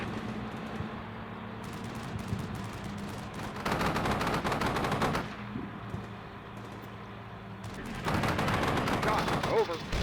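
Artillery fire mission in the video game Combat Mission: Shock Force 2, with two loud sustained barrages of booming, crackling impacts separated by quieter rumbling battlefield ambience.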